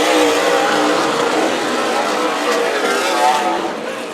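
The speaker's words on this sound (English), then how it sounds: "Tim Sweet and Sean Woodsider right now, watching 2 Apache cars battle for the win right now?" Race cars battling for the win at Stockton 99 Speedway in a SPEARS Southwest Tour Series event, engines roaring loudly and continuously as they run past, filling the whole clip.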